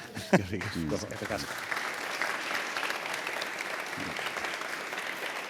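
A festival audience applauds at the close of a talk about football among friends. A voice speaks briefly at the start, then dense, steady clapping carries on to the end.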